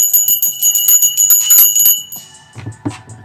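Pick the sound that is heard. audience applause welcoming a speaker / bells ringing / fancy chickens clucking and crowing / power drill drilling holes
bells ringing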